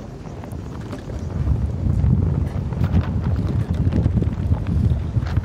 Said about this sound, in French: Alors il y a un gros coup de vent qui vient d'arriver.